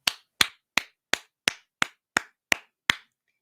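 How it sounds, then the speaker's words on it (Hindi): Claps in honour of ex-Muslims during a talk show episode, heard as nine sharp, evenly spaced claps about a third of a second apart, close and loud with silence between them. "तो एक बार एक्स मुस्लिम्स के लिए नाजरीन तालियां।"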